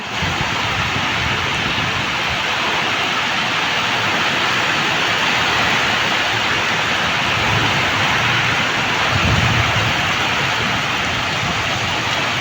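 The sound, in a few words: heavy rain with thunder at night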